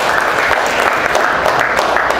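Warm applause from guests at a Korean banquet celebrating a presidential birth anniversary, a dense steady patter of many hands filling the room at close range, with no talk over it.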